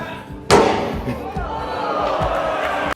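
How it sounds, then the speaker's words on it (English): A sledgehammer slams into the door of a Tesla Cybertruck with one loud, sharp metallic impact, followed by a crowd's cheers and shouts. "They took a sledgehammer to the door. Really wind up and nail it."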